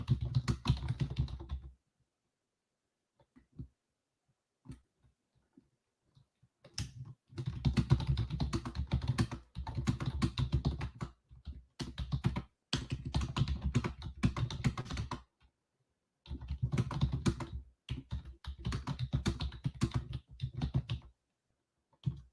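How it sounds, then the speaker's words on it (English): Fast bursts of clattering keystrokes on a computer keyboard come up close, broken by several silent gaps, with no talking. "I'm just typing out here"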